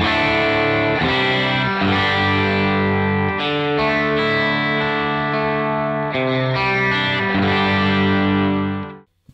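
Electric guitar through a captured Matchless Independence amp with reverb added, ringing overdriven chords strummed steadily, loud and upfront, tails blooming until the final chord cuts off.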